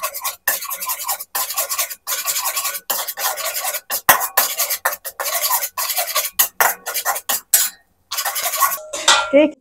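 Steady scraping and sizzling of eggs frying in a pan for fried lontong, rhythmic stirring strokes with brief pauses, loud and close, no voices.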